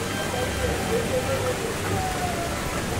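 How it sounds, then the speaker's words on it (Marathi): Water pours steadily from a cow-mouth spout at the source of a river, a continuous broadband rush that fills the scene, with a person speaking over it. "ते समोर दिसतंय ना, गोमुखातून येणारं पाणी"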